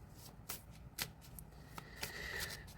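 A deck of tarot-style cards is riffled and shuffled close by, giving soft flicking bursts over a faint steady background hiss.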